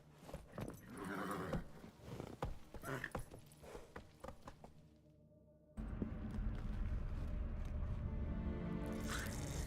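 Horse sounds from The Witcher, with soft hoof and movement noises followed by a louder, steadier stretch of mixed noise, heard close with no talking.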